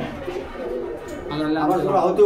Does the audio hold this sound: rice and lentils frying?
no